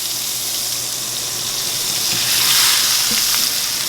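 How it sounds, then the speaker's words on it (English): Steak sizzles in butter in a cast iron skillet on a stovetop, a loud, close, continuous hiss that swells slightly partway through, with a couple of faint knocks. "Now you can hear that sizzling."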